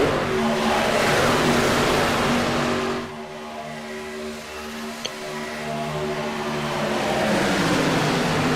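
Race trucks roar at speed around Talladega Superspeedway in the iRacing game, a loud, droning engine whine that briefly drops and swells back as the field passes.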